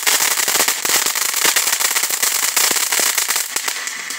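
Fireworks and firecrackers crackle continuously in the background, a dense rapid stream of sharp pops and snaps that stays loud for the whole stretch before easing slightly near the end.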